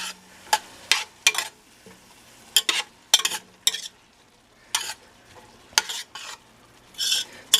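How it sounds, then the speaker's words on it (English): Chicken vegetable soup with plenty of carrots being stirred in a pot, a spoon scraping and sloshing in repeated short strokes separated by quiet gaps, close and fairly loud. "Stir that in."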